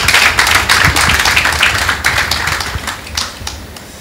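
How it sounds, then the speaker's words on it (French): Audience applause at a conference talk on language learning, dense clapping that starts loud and gradually thins and fades over a few seconds, with no voices over it. "Sous vos applaudissements, s'il vous plaît"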